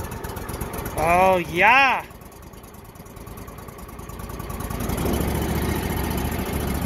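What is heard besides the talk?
vehicle engine starting and idling with choke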